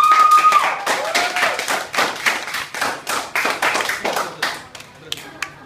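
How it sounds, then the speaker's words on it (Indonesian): Students and onlookers clap after hypnotised students are woken at a junior high school: a brisk, uneven round of close hand claps that thins out toward the end, with a voice briefly heard near the start. "Oke, tepuk tangan buat."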